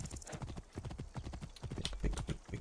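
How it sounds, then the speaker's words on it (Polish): A horse galloping in the video game Assassin's Creed Origins: quick, steady clip-clop hoofbeats, close and loud, running through the whole stretch. "Naprawdę tam wchodziłem, żeby koń zaskoczył."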